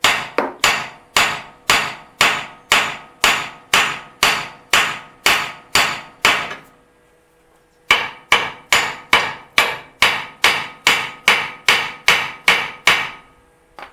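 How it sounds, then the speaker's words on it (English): A hammer taps the steering knuckle of a 1997 GMC Jimmy to free a ball joint: loud, sharp metallic blows in a steady rapid series of about eleven, a short pause, then about twelve more, close and with no talking. "we're going to see if we just tap the knuckle, see what happens"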